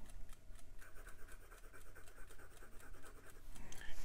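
A Leonardo Momento Magico fountain pen nib scratching across paper in quick, rhythmic strokes, close and quiet, with a dry, pencil-like texture.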